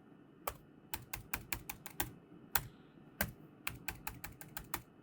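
Password being typed on a computer keyboard during a security camera portal setup, heard as a close run of crisp, irregular key clicks in quick bursts with short pauses over a quiet room.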